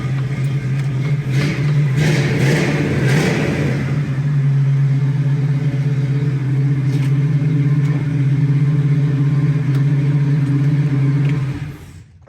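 A 1973 Ford Bronco engine idles steadily after a cold start, a loud close low rumble with a few throttle blips early on before it cuts off at the end.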